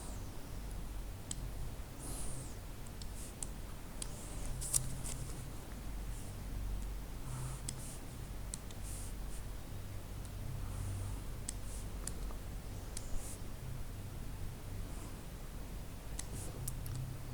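Pen scratching and tapping on paper while drawing a graph in a maths lesson, faint irregular clicks and short strokes over a quiet background with no talk.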